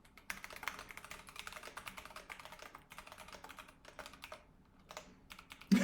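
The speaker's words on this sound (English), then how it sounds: "she's typing on screen" Computer keyboard typing during an online call, a fast stream of crisp, close key clicks in irregular bursts with brief pauses, followed by a louder thump at the end; no talking.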